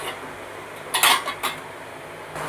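A spoon mixes banana, mango pieces and spices in a bowl for Ugadi pachadi: a few quick metallic clinks and scrapes cluster in the middle against a quiet room background.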